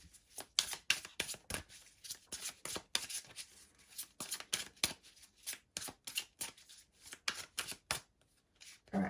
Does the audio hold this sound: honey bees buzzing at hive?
no